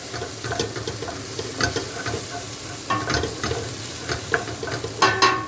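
Onions and black olives fry in a pan with a continuous crackling sizzle, broken by repeated scraping stirs and light clinks of a utensil against the pan, close and fairly loud.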